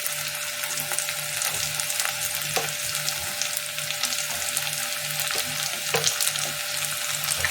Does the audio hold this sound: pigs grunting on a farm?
no